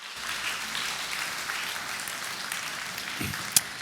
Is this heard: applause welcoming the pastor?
yes